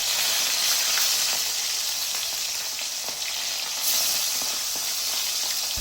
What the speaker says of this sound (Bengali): একটা কড়াইতে পরিমাণ মতো তেল নিয়ে গরম করে তার মধ্যে দিয়ে দিব মাখিয়ে রাখা মাছ।